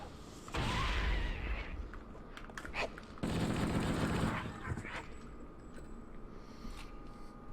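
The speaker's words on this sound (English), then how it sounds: "I love the way the assault rifle sounds" Assault rifle fire from Halo: Combat Evolved on the original Xbox, rattling in two sustained loud bursts over game ambience, with quieter noise between them.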